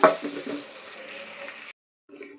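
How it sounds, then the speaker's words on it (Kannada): Ginger, cinnamon, cloves and poppy seeds sizzle in a pan for a stuffed brinjal masala, a close frying hiss lasting under two seconds before cutting off, then returning faintly for a moment. "ಇದಕ್ಕೆ ಶುಂಠಿ ಚಕ್ಕೆ ಲವಂಗ ಗಸಗಸೆಯನ್ನು ಸೇರಿಸ್ಕೊಳ್ತಾ ಇದ್ದೀನಿ ಈಗ ಇಷ್ಟನ್ನು ಹಾಕ್ತೀನಿ ನಾವು ನೀಟಾಗಿ ಒಂದ್ಸಲ ಫ್ರೈ ಮಾಡ್ಕೊಳ್ಳೋಣ"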